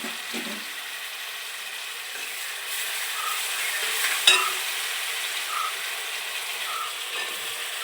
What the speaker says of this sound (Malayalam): വെളുത്തുള്ളി പച്ചമുളക് ഇഞ്ചി സവാള അരിഞ്ഞു വെച്ചിരിക്കുന്നതെല്ലാം കൂടി ഇട്ട് കൊടുക്കണം